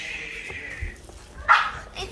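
Seven-week-old Boston Terrier puppies let out short high yips and whimpers, one sharp bark standing out near the end, close by and mixed with a person speaking softly in the background.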